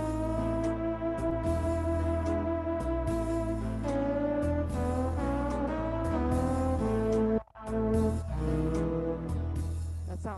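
Guitar playing with sliding glides on every note, a sustained melodic line over low bass tones, close and continuous with a brief break partway through and no talking.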